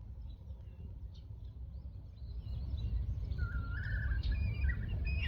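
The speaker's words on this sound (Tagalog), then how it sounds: "May mga ibon doon, oh." Birds calling near water, faint scattered chirps and short whistled calls over a low rumbling ambient background, growing slightly louder toward the end.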